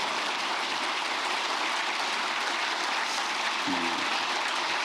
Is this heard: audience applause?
yes